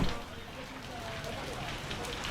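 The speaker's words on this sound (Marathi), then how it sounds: "पाऊस काय जोरदार आहे हो बघा" Dense, steady patter of heavy Konkan monsoon rain falling close by in a market, a continuous hiss with no break.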